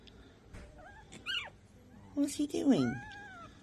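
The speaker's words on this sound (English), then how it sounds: "He's barking at you." A puppy lets out high, squeaky yelps and whiny barks close by, in short bursts between a person's speech.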